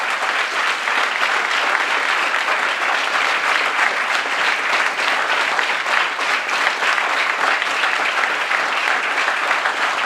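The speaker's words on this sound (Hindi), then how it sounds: "सभी टीचर्स के लिए एक बार तालियां हो जाए।" A school audience applauds its teachers with sustained, dense clapping that stays loud and even throughout, no voices rising above it.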